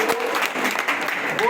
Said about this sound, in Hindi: जोरदार एक ताली होनी चाहिए